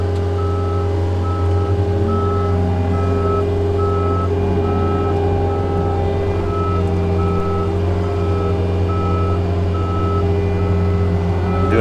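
Repeated reversing beeps from a truck loaded with rock backing into a lagoon worksite, an evenly spaced electronic tone sounding over a loud, steady diesel engine rumble for the whole stretch.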